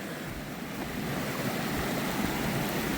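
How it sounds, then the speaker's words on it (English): A small waterfall on a mountain creek in the Uinta Mountains pours in a steady, dense rush of water, close and continuous, with a little wind noise and no talking. "We're hiking next to the creek right now and found this little waterfall spot."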